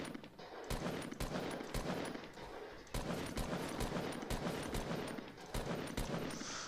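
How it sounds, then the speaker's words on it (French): Crossbow shots in the Fortnite video game, a quick series of sharp cracks at irregular intervals over a busy, fairly faint game background with no talking. "je tire à l'arbalète sur le mec qui est au-dessus de nous"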